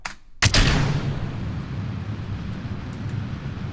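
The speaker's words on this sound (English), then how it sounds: "Let's launch this dude. SAS. Full throttle. Fire." A rocket engine ignites at full throttle in Kerbal Space Program, starting with an abrupt loud blast and settling into a continuous roaring rumble.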